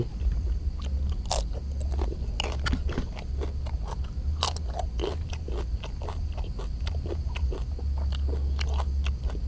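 Close, steady crunching and chewing of a crispy pounded fresh shrimp salad, with irregular sharp bites and crackles over a low continuous background hum, no talking.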